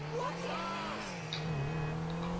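A car drives in GTA 5, with a Pocoyo mod running: a steady engine hum with a rising and falling pitch sounds close throughout, and faint tire and road noise sits beneath it.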